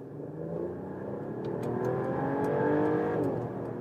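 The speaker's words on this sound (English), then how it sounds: "Let's go to sport mode and we accelerate from 30 kilometers an hour." A Mercedes E-Class All Terrain with a six-cylinder engine accelerating hard in sport mode from low speed, its engine note rising steadily in pitch and loudness, heard from inside the car.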